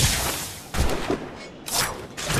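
Sharp gunshot blasts in the Assassin's Creed game set in Shay's era, two loud bursts separated by a brief lull, each with a rolling echo tail, close and prominent.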